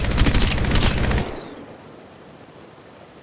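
Loud automatic weapon fire in Apex, a rapid close burst of rattling shots that cuts off after about a second, followed by quiet ambience and a brief sound at the very end.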